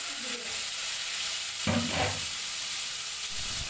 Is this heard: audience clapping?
no